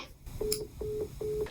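Telephone line tones after a call ends, three repeated short electronic beeps in an even rhythm over low background noise, fairly close and moderately loud.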